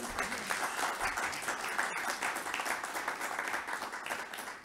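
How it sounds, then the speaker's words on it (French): Steady applause from the room at a municipal council meeting in Wattrelos, dense and even, moderately distant, with some faint voices mixed in. "On peut l'applaudir."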